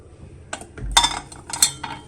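Roasted cashews for a dry fruit laddu are tipped onto a plate, producing a few short, close clattering bursts of nuts striking the dish, with brief quiet gaps between them.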